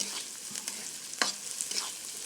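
Onions and spices frying in a karahi for desi chicken curry, a soft steady sizzle broken by a few scraping stirs of a spoon against the pan, close and without talk.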